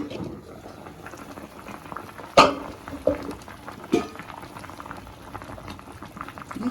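A pot of raw mango gojju bubbles at a soft, steady simmer. A few sharp clanks of metal utensils and a lid stand out above it.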